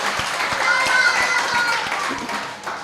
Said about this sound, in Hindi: तालियां भी बजानी पड़ेगी साहब